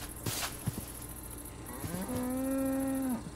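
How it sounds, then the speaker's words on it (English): A Minecraft cow moos in a game world, one drawn-out bellowing moo rising and holding steady near the end, preceded by a few soft clicks, fairly close and clear with no talking over it. "You're gonna become steak if you don't stop mooing."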